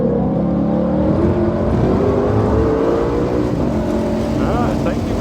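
A 2020 Shelby GT500 accelerates hard around the COTA track, its engine roaring loud and steady from inside the cabin with continuous wind and road noise.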